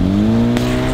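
A 2013 Hyundai Genesis Coupe engine revs loud and close, its pitch rising as the car rolls over a cantaloupe, with a sharp short burst partway through.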